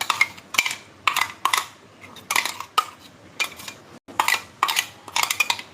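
A metal spoon scrapes spice paste for Hyderabadi Nizami dum aloo into a cooking pot in a run of sharp, clattering strokes with short gaps between them, close and fairly loud with no talking.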